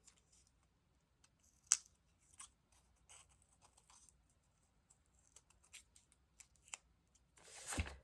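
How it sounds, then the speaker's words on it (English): Scissors trim a paper photo for an art journal collage: quiet, scattered snips and crisp clicks spaced irregularly across several seconds, ending in a longer rustle of paper. "Giving it a little more of a trim."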